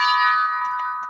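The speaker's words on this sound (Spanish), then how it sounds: "así que vamos a tocar el gong" A gong rings out with a bright, sustained metallic tone that decays over about a second, loud and close, with faint incidental noises under the fading resonance.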